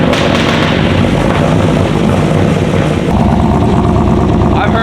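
LS-swapped BMW E46 firing up cold on ethanol, a loud, dense engine roar with rough, popping bursts through an odd exhaust, filling the whole stretch with voices faintly under it.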